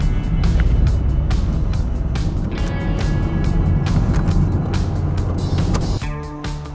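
A Peugeot car is driving, with a steady engine and road rumble and scattered sharp ticks and knocks throughout. The tone shifts near the end.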